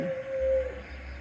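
Dogs outdoors in a quiet evening setting give a single sustained howl-like cry lasting about half a second, fairly distant, over a low steady rumble.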